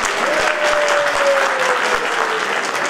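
Dense, loud applause from an audience for the Cuci folk ensemble from Brănești, Ilfov, at the Tudorița horse Easter festival in Târgoviște, sustained clapping from a large crowd, close and unbroken.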